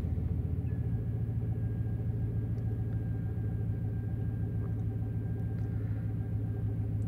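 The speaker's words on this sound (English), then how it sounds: "So with the vehicle at idle," A GMC Sierra pickup engine idles steadily during a check of oxygen sensor faults, giving a constant low rumble with a faint high whine running through it. No one speaks.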